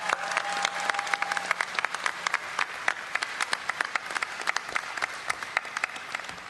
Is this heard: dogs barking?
no